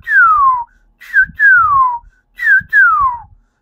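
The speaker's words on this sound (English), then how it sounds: "or I can whistle." Three clear whistled phrases, each a sliding note that falls in pitch, separated by short pauses, loud and close with no talking.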